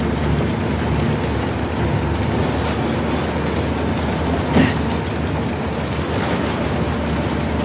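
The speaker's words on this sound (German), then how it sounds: "Das ist definitiv die Lok." A locomotive in Uncharted: The Lost Legacy gives a loud, steady rumbling clatter of rolling rail cars throughout, with a brief metallic screech midway and no voices.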